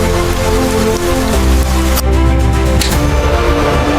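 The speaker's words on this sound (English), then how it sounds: "Even the rain became an enemy." Heavy rain pours steadily in an animated volcanic-disaster scene, a loud, dense, continuous wash with a low rumble underneath and brief dips in the hiss, with no voices.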